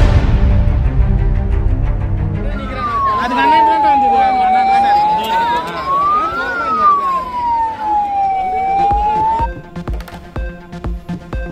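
An ambulance siren wails up and down for several seconds over a steady rumble of congested traffic, then cuts off, leaving engine noise and scattered clicks.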